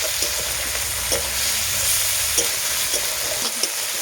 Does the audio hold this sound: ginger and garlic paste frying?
yes